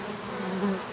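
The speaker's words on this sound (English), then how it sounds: "I'm here with all these bees flying around me" Bees buzz close around a wagon outdoors, a steady drone that rises briefly as one passes near.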